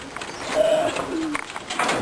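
Racing pigeons cooing in a nest that holds young birds, a close, soft, throaty coo over a faint background rustle, with no talking.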